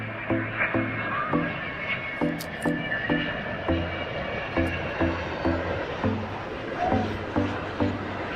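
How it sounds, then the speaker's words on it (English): A Delta Airbus A330-900neo airliner on approach to SeaTac airport, its engines giving a steady droning whine with a repeating pulse, fairly close and loud. Faint voices come and go behind the engine noise. "There he is. Engines whistling."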